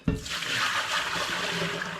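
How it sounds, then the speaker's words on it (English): Water from a pan tipped into a drain after growing mushrooms from a kit: a sudden splash, then a steady gushing pour lasting about two seconds, close by and heard alone. "I'm just going to tip the water out of the pan."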